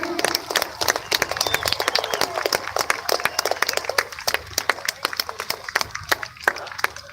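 A beach crowd at the Bournemouth Airshow 2018 applauds as a free fall parachutist comes in to land: sustained, close clapping from many hands with scattered sharper claps and faint voices mixed in.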